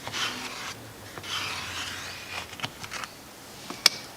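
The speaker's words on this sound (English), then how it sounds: "Go ahead and spread yourself a thin layer across the area. Scrape off all the excess." A plastic applicator scrapes excess Bondo filler across the wooden body of a Telecaster Thinline electric guitar, giving a few close, raspy strokes with brief pauses and a sharp tap near the end.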